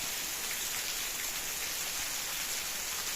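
Steady rain pours down on a coriander-growing field in a continuous broadband hiss, constant and fairly close, with no voices.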